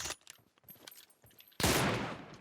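Gunfire in the mobile battle-royale game PUBG Mobile, with scattered clicks and small pops first, then a sudden loud, dense burst of rapid shots that carries on to the end.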